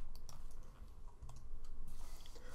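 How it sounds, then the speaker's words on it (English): Quiet, crisp clicks of a computer keyboard being typed on, a quick run of separate key taps close by with no talking. "Hitting T on the keyboard."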